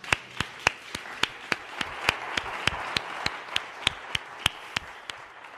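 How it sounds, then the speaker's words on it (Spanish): Applause at a Spanish PSOE political event on ecological transition, with sharp clap peaks landing steadily about every quarter second over a broad wash of crowd clapping, moderately loud and close, no talk over it. "Mira, un aplauso, te lo vamos a dar."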